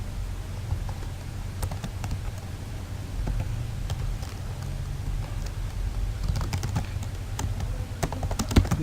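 Fingers type CSS code on a computer keyboard, producing a steady, irregular patter of light, close key clicks in a quiet room, growing somewhat busier toward the end.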